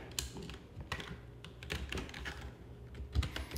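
Someone types a Linux command on a computer keyboard, a quiet run of quick, uneven key clicks with a few slightly louder taps near the end.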